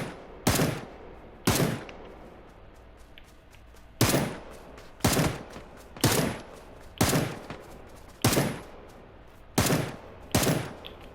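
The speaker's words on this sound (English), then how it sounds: "Someone's still shooting at me." Gunfire in PUBG: Battlegrounds rings out as a series of sharp, loud single shots at uneven intervals, each cracking hard and then decaying briefly, with no talk in between.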